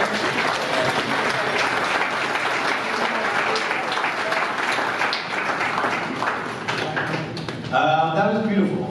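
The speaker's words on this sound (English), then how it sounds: "One more round of applause for Andy" Warm applause at a celebration-of-life gathering, a dense crowd clapping for several seconds that thins near the end as a voice begins speaking over it.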